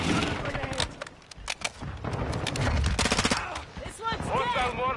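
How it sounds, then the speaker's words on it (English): Chaotic Call of Duty battle with repeated sharp impacts and crackling bursts that fit a mortar strike, overlapping gunfire and game chatter throughout. "Mortar striking."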